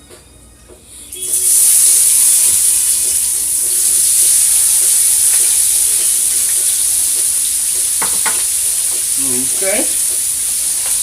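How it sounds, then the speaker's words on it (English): Onions hit a pan of hot meat drippings on low heat and sizzle loudly and steadily up close, with a few stirring clinks; a voice speaks briefly. "What we're going to do now is throw our onions in there."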